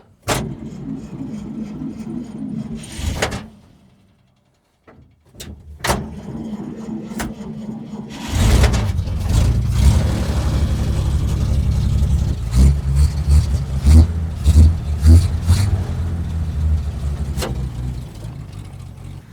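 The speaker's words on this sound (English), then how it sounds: "Give her a little bit of gas, give her some choke. Key is on, out of gear, hit the starter." A small engine that smokes heavily, started with choke and a little gas: a brief cranking, a pause, then a catch, and a loud, rough idle with rising revs close by.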